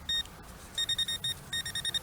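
Metal detector giving a solid 81–82 target signal while hunting for old Indian head pennies by an old clothesline: a near, bright tone sounds once briefly, then repeats in two runs of short rapid beeps, alone with no talk.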